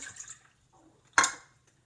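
Warm water lands in a measuring cup in a home kitchen while bread is being made, a single brief splash after a few faint clinks and a near-silent pause.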